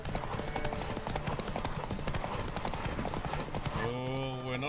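A horse gallops in The Witcher 3 with fast, continuous hoofbeats on a road under game music, and a neigh or musical swell rises near the end while a voice talks over it.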